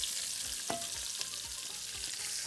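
Onions fry in fat in a pan that was used to brown chicken, with a steady close sizzle throughout and faint stirring scrapes, with no talking.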